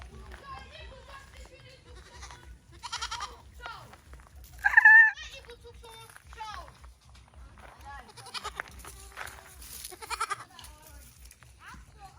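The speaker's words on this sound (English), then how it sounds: "This is native goat." Native goats bleat on a village goat farm, a clear loud call standing out midway, with other animal cries and children's voices and adult talk around it.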